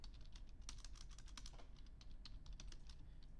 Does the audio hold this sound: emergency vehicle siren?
no